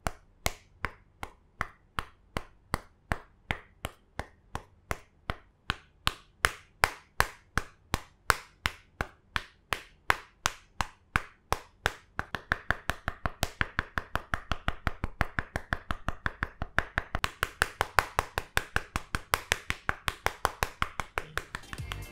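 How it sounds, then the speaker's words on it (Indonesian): Knuckles knocking on the metal body of a Xiaomi Mi A1 phone, a long series of sharp, evenly spaced taps, slow at first and then faster and denser, close and crisp with no talking. "Mungkin saya bisa gambarin tingkat kekokohannya dari suara ketokan ini."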